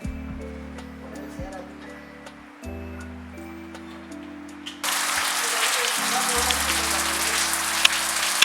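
Rain falls steadily outdoors in a dense broadband hiss that swells louder partway through, with a low steady hum underneath and no talking.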